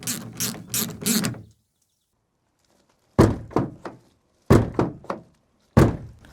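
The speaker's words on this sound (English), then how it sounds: "handle is going to automatically pop back into place and work normally" A Vauxhall Corsa D car door handle being worked during replacement gives a quick rattle of clicks, then a pause, then sharp plastic thunks and snaps as it pops back into place, close and clear.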